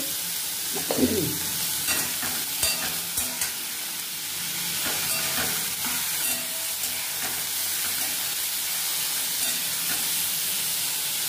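Bottle gourd pieces frying with cumin seeds in a pan in a village kitchen, giving a continuous soft sizzle and hiss broken by several scraping stirs near the start.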